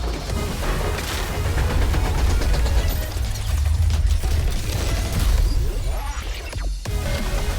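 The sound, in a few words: gunfire and explosions in Goddess of Victory Nikke video game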